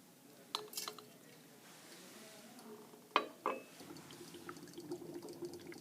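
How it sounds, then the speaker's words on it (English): Pink liquid poured from a beaker into a glass flask, a quiet splashing trickle with a couple of sharp clinks of glassware, followed by soft fizzing as it bubbles. "I'm going to take this beaker, I'm going to pour it into this flask."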